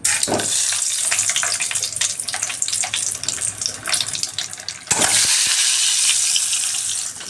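Boiled eggs land in a pan of hot oil with chilli powder and salt and sizzle loudly, a dense close hiss with a brief break and a fresh burst of spattering.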